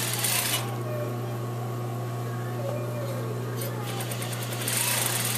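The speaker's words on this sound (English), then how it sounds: "So sometimes I just lay them right on top of each other and look at them as I'm stitching them together." Sewing machine stitching plaid fabric seams together, a steady close motor whir running throughout with faint talking over it.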